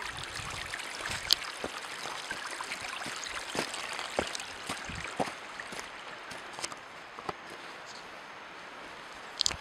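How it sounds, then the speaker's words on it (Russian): Water from many small mountain streams runs across and erodes a hillside dirt road, a steady rushing flow with scattered splashes and faint rustling, fairly close and with no talking. "Вот так многочисленные ручьи размывают горные дороги, если, конечно, им не отведено русло."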